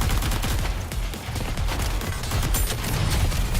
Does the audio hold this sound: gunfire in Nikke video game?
yes